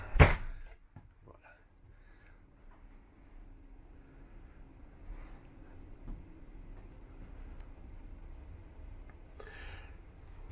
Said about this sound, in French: Donc à l'intérieur, simplement j'ouvre la porte.